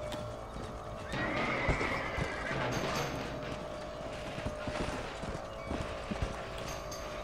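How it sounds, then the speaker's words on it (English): A horse whinnies loudly up close in Red Dead Redemption, followed by hooves clip-clopping and scattered mechanical clatter and thuds in a busy game scene. "Get that horse back! Get it moving!"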